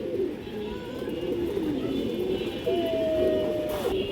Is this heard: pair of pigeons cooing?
yes